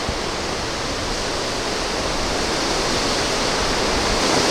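Waterfall on the Napisagut River in New Brunswick, a loud, steady broadband rush of falling water heard close up with no other sounds.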